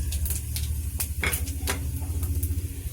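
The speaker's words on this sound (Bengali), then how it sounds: "এবারে আমি নাড়ছি।" Whole garam masala spices, dried chili and cumin stirred in a hot pan, a low sizzle beneath several sharp scrapes and clinks of a spoon against the metal, irregular and close.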